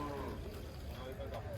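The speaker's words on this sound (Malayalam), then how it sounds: "പാലിന്റെ പർപ്പസിന് പറ്റുന്ന പശുക്കളാണ് ഈ ഏരിയയിൽ കൂടുതലും." Dairy cows at a cattle market give a brief, low, faint lowing against murmured crowd noise and talk.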